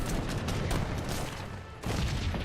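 Massed gunfire from an Age of Empires 3 battle as cannons are shot down, a dense continuous crackle of musket volleys and booms that dips briefly before surging back, loud and unbroken.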